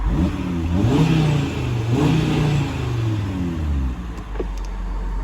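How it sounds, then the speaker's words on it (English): A 2022 Audi RS3's engine revs up and down several times through its RS sport exhaust, the deep note rising and falling close by before settling into a low idle. "pop the window down and give it a little bit of a rev so you can get an idea"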